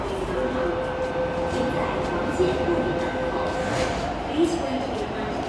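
A C train at Tai Shui Hang Station gives off a steady rail rumble with a faint high whine running beneath, holding at an even level throughout with no clear talk over it.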